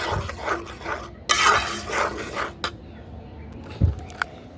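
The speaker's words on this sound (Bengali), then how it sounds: "চালের গুঁড়িগুলো একটু একটু করে দিব আর নেড়ে চেড়ে দিব" Rice flour stirred into a boiling palm fruit mixture for tal gorgora pitha: a spoon scrapes and stirs in short bursts with a few clinks against the pot, a brief loud scrape midway, and no talking.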